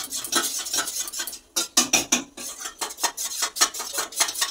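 Agar agar powder is whisked into water in a bowl, with rapid, bright metallic clinks and scrapes of the whisk against the bowl repeating in a fast, uneven rhythm, close and fairly loud.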